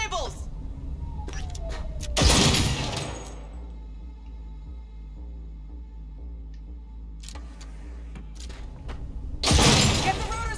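Gunfire while shooting cables in Cyberpunk 2077 on Xbox Series X: two heavy bursts of shots and crashing impacts several seconds apart, with scattered sharp clicks and a low steady hum between them.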